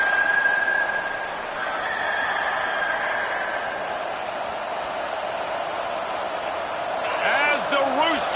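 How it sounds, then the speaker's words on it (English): At a South Carolina college football game, a rooster crow rings out near the end, a short rising-and-falling call heard over the continuous crowd roar of the stadium. "As the rooster crows"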